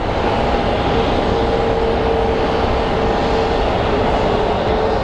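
A Hawaiian Airlines airliner takes off at Phoenix Sky Harbor International Airport. Its engines put out a steady, loud, broadband roar with a faint whine on top, holding constant throughout, with no voices.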